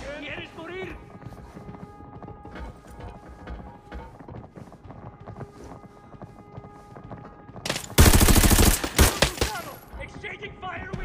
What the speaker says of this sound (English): Exchanging fire with the target.